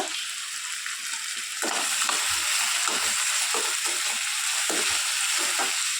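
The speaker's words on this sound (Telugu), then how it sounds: "నేనైతే ఆయిల్ లేకుండానే వీటిని ఫ్రై చేసి పక్కన పెట్టేస్తున్నాను అనమాట" Vermicelli (semiya) dry-roasting in a pan without oil, a steady close hiss with intermittent scraping and stirring sounds throughout, no talk.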